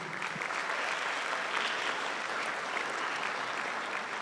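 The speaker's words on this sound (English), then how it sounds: "another round of applause for the Woodwind Choir, please" Steady, sustained clapping from a large audience at a high school spring band concert fills the space at an even level, a dense wash of applause with no voices standing out.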